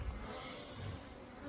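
Honey bees buzzing at an open hive during a spring inspection, a dense, even close hum filling the moment with no talk.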